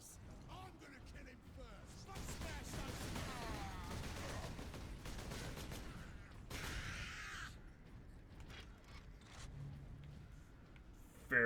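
Bolter gunfire in the video game Warhammer 40,000: Space Marine, a dense rattle of mechanical shots and impacts over game ambience, fairly quiet overall with a few sharper bursts.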